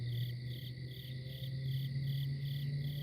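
Crickets chirp at night near a tent in a continuous, even, pulsing trill, moderately close and unbroken, with no voices.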